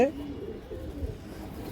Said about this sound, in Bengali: নটটা দেখেন নর কবুতরটা দর্শক